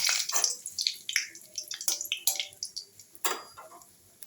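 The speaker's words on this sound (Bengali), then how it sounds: "তেলটা আমার গরম হয়ে গেছে, এর মধ্যে এখন দিয়ে দেবো শুকনো লঙ্কা আর তেজপাতা" Dried red chillies and bay leaves hit hot oil in a pan, bursting into a series of irregular, crackling sizzles that flare and fade, close and fairly loud.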